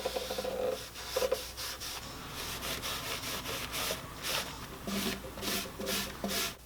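Folded t-shirt cloth rubs True Oil finish onto a ukulele, quick back-and-forth swishing strokes in an irregular rhythm, close and fairly quiet, with no voices.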